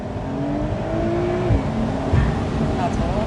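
A Porsche 911 Type 992 Cabriolet's engine revs in a moderate, muffled drone, rising then easing off, with thumps and rustles of the cabin and voices talking over it.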